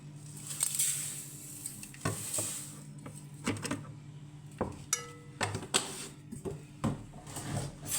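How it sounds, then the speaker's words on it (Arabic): Flour stirred into boiling water in a pot while making an economical dessert, with repeated scraping and knocking of a spoon against the pot and a bubbling, sizzling undertone, close and without talking. "اول ما المية تغلي هنحط الدقيق"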